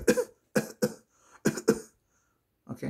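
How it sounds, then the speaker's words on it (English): A series of sharp coughs, some in quick pairs, close and fairly loud, with short pauses between bursts. "Cough."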